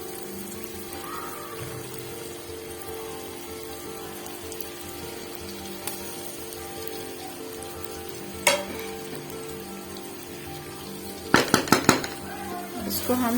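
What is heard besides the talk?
stirring boiled egg slices into masala with a spoon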